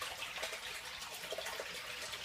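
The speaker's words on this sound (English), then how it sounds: "I know the water's choppy and noisy, you might not be able to see" Faint, steady choppy water sloshing and splashing as a bucket of tilapia fingerlings is slowly tipped into a fish-raising tote, a continuous low wash of churning water.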